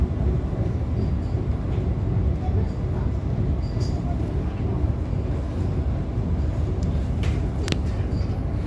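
A Mariyung train rumbles low and steady at Hornsby station, with faint squeals and a few higher metallic clicks over the continuous roar, heard from on board.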